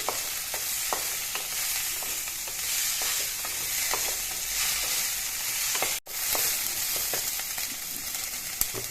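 Onions and chicken fry in a pan with a constant dense sizzle. Small pops and stirring clicks are scattered throughout, there is a brief dropout near the middle, and no speech is heard.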